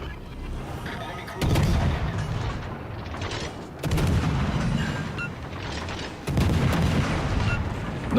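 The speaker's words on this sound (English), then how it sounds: "he's turning broadside while I'm shooting AP" Heavy naval gun salvos from an Italian tier 3 destroyer firing armour-piercing shells in World of Warships: Legends, three loud booming volleys spaced a couple of seconds apart, each followed by rumbling decay.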